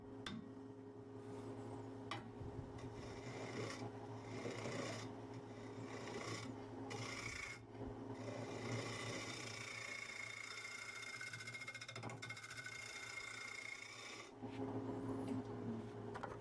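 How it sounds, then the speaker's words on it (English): Negative rake scraper cutting a wooden bowl on a lathe, a continuous rasping, scraping sound over a steady machine hum, close and even, with brief pauses in the cut. "With this negative rake scraper, you want to approach it almost down a little."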